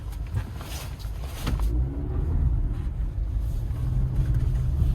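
A 2022 Jeep Compass driving at 8,000 ft on a slippery surface, with a continuous low engine and tyre rumble and road noise that grows steadier and fuller after the first couple of seconds.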